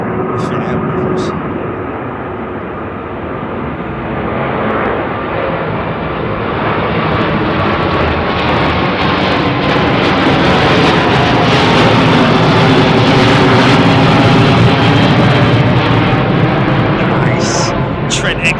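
An Airbus A350 with Rolls-Royce Trent XWB engines departs Heathrow runway 09R, a loud broadband jet roar that builds and holds throughout while people talk nearby.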